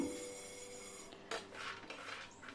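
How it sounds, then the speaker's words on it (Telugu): Ragi laddu mixture being scraped and moved onto a plate after roasting, giving close metallic scrapes of a spoon against a pan and plate, a brief clatter midway, then softer rubbing strokes with no talking. "ఇప్పుడు దీన్ని ఇదే ప్లేట్లోకి సైడ్కి తీసుకొని పెట్టుకుంటున్నాను"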